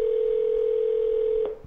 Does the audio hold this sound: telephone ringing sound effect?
yes